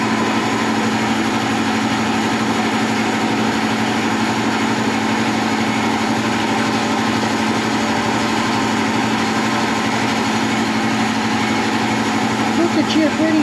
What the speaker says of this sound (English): It's just the air compressor.